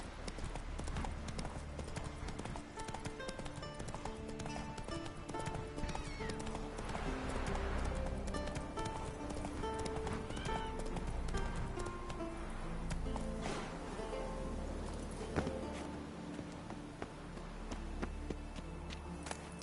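Roach, the horse in The Witcher 3, gallops with steady, rhythmic clip-clopping hooves, and a whinny breaks in partway through, at moderate distance with faint voice nearby.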